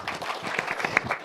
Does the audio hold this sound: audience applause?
yes